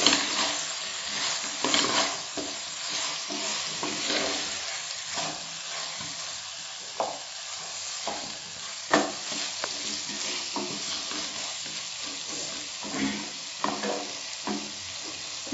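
Milk stirred into chicken nihari in a pot, a spoon scraping and knocking against the pot in irregular strokes over a low bubbling simmer, heard close with no speech.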